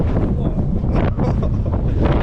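Heavy wind buffeting the microphone, a loud continuous roar with gusty rumbling throughout, during a sled descent of the Cerro Negro volcano in Nicaragua amid blowing gravel.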